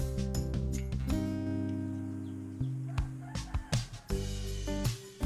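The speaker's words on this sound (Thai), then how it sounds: "ท่ามกลางเสียงไก่ร้องเพลงให้ฟังนะฮะ" Roosters crow repeatedly nearby, loud drawn-out calls with harmonic stacks, several overlapping in a farmyard chorus with no talking, in the early morning at a rural Thai homestay.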